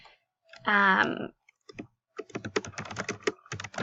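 A computer keyboard is typed on in a quick run of close, crisp key clicks after a brief spoken phrase, with a short pause between the two.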